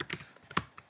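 Fingers type quickly on a computer keyboard, entering a search into a search field: a short burst of about six crisp, close keystrokes with uneven spacing and no voices.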